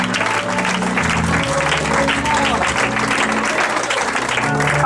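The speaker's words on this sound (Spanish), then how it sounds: "un fuerte aplauso a Cristo para esta vida" Loud, sustained applause fills an evangelistic church service, a dense crowd clapping continuously under music and amplified background sound.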